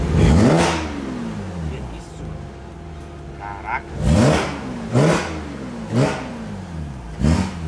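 A 2006 Porsche sports car with a manual gearbox revs its engine hard several times, loud and close. Each sharp rising blip is followed by a falling whine, and one short exclamation is spoken between revs.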